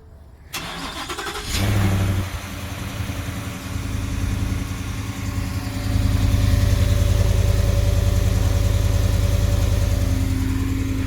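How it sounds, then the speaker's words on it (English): A Ford F-150 truck's Coyote V8 engine with an MBRP side-exit race exhaust cranks and catches on a cold start after a brief starter whir, then settles into a steady, deep idle that grows slightly louder and keeps running. "Well, there's our near silent cold start."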